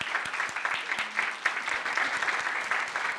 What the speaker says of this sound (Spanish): ¿Quieren que me aplaudan?